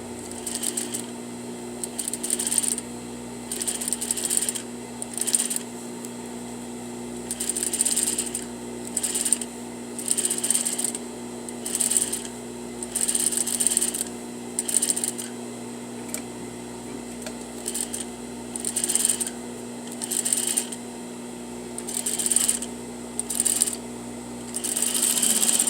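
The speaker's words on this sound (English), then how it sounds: "I want to keep this fold just underneath this side of the presser foot. And that will give me a nice even edge stitch." A sewing machine edge stitches along the fold of a bias facing, running in repeated short bursts of rapid needle chatter separated by brief pauses over a steady background hum.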